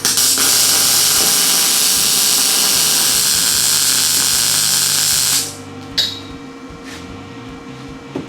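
Steady, loud hiss of welding on steel tubing for a UTV roll cage, running continuously for about five seconds and then cutting off, followed by a few faint clicks and taps.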